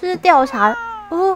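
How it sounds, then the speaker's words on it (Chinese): A cat in an eerie haunted-house video game gives drawn-out, tonal meows close by, mixed in with a short line of speech. "什么啊？ 是猫啊？"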